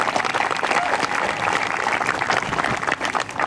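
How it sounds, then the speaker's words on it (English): A graduating class of 2025 claps at their ceremony, a steady, dense wash of applause from many hands filling the hall, with faint voices mixed in. "clap it up for yourselves, please"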